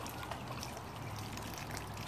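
Aquarium water poured from a hose onto garden plants, a soft continuous trickle and splash, faint and steady throughout.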